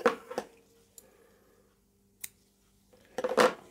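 Scissors snip through yarn during a crochet rose granny square project, a few short crisp cuts heard close and alone in a quiet room, with a louder rustle of handling at the end.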